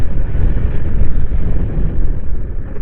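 Strong wind buffets the microphone in a steady, loud, roaring rumble near a stone quarry area in Pudukottai, with no other sounds standing out.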